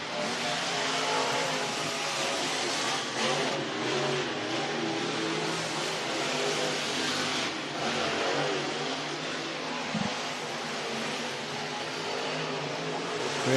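Race cars at a motorsports park during an annual fall classic event, engines roaring continuously at full throttle, a dense sustained drone that stays loud throughout with slight swells as cars pass, no talking.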